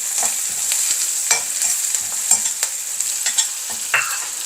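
Garlic and green chillies fry in oil in a pan and are stirred steadily. A constant bright sizzle carries repeated scraping stir strokes at an irregular rhythm, close and moderately loud, with nobody talking.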